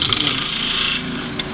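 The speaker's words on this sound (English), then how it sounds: "I'm just going to drill a depth hole" A 3/8 spindle gouge drills a depth hole into a wooden box blank spinning on a lathe, giving a steady close rasping, scraping hiss that runs for about a second and then eases off, with a brief scrape near the end.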